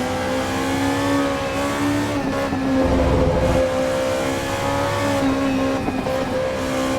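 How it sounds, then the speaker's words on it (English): Race car in the Assetto Corsa Evo video game, its engine held high and repeatedly bouncing off the rev limiter, giving a loud, continuous buzzing drone with brief stutters and dips in pitch, and no voices. "Definitely hitting the rev limiter a lot."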